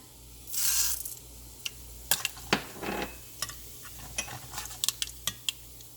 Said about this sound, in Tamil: இப்போ பாருங்கள் நல்லா எண்ணெய் கொதிச்சிட்டுது கடுகு போடுறேன்